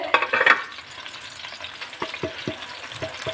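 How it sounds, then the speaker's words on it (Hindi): Eggplant and spices fry in hot oil, a strong sizzle and crackle opening the clip, then easing into quieter frying broken by several sharp scrapes of stirring. "ऐसे हम 1 से 2 मिनट भून लेते हैं"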